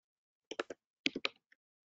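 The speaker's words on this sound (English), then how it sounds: "I think someone's microphone is on because I can hear them typing." Keys are typed on a computer keyboard over an open microphone during an online talk: two quick bursts of three clicking keystrokes, then a single faint tap, close and clear in otherwise silent air.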